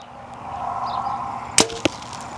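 Archery trigger release on a compound bow: a sharp click followed moments later by the louder crack of the arrow shot breaking, two close transients over quiet room tone.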